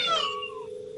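A cat gives a single drawn-out meow, a clear falling wail close to the listener that trails off within a second, used as an eerie horror effect.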